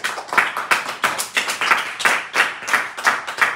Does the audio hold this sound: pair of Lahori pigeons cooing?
no